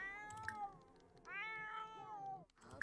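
A cat in The Sims 4 meows several times in a row, with short, clear, rising-and-falling cries that are quiet and close, and no talking over them.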